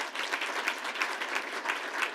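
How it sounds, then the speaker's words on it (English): A small group claps in applause, a brisk, continuous patter of hands at moderate volume with no voices. "Let's give them a round of applause."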